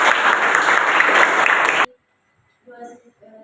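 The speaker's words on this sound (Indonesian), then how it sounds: "Tepuk tangan." Loud, dense applause from a classroom of students fills the space, then stops abruptly, leaving near silence before a voice begins speaking quietly.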